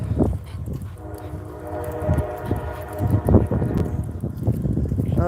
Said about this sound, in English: train's blocking traffic